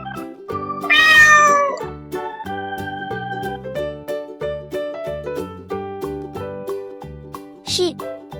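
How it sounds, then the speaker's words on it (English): A cat meows loudly once near the start, with a shorter meow near the end, both over light, bouncy background music in a children's farm-animal lesson. "Cat."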